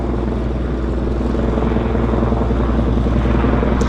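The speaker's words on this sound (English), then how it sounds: "We have our first arrival of the show is actually a helicopter." A Helijet helicopter arrives at the heli base in Vancouver harbour, its rotor and engine roaring loud and close in a constant, throbbing drone for the whole few seconds, with no voices over it.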